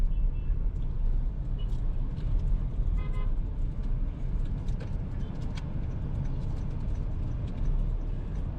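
Heavy Saturday evening road traffic with a constant low rumble of engines and passing vehicles, short car horn toots breaking through near the middle, dense and continuous throughout.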